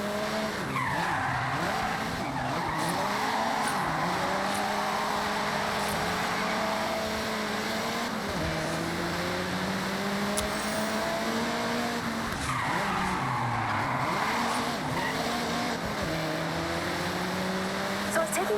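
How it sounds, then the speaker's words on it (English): A car drifts in the Forza Horizon 6 racing game, its tires squealing in long sliding sweeps over a revving engine that rises and falls, loud and continuous. "Drifters like to induce oversteer and send it all the way around."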